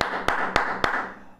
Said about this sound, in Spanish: Un aplauso a los artistas cristianos